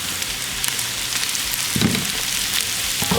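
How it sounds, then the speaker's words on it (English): Hash browns frying in a pan with crispy bacon and browned onions, giving a steady broadband sizzle throughout with a brief louder crackle near the middle. "Now we're gonna go in with our hash browns."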